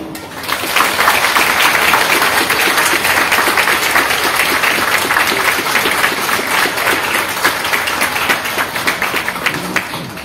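A crowd at a fairground workers' mass applauds the fair queen with dense, sustained clapping that rises quickly, holds loud for several seconds, then slowly thins out.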